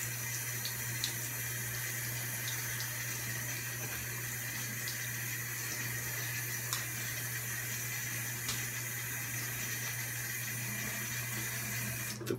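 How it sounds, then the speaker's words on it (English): Water runs steadily from a tap into a sink before a straight razor shave, a constant hiss with occasional faint clicks, alone without talk. "I'm gonna wet my face a little bit."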